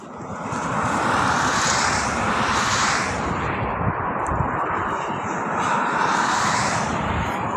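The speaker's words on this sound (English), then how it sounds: "Is that wind still loud?" Loud, continuous wind roars and rushes past the microphone, rising and falling in gusts, with a roaring rumble throughout and no clear talk.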